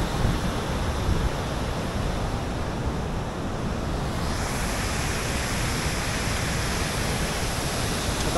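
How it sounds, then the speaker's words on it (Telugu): Bogatha waterfall in Telangana, a dense, continuous roar of rushing water filling the whole clip with steady, unbroken noise, loud and close. "తెలంగాణ నయగర వాటర్ఫాల్స్ ఇది."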